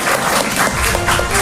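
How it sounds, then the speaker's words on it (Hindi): Audience at a school quiz show for government school children bursts into loud, dense applause, a close, continuous wash of clapping with some crowd noise. "जोरदार ताली होनी चाहिए"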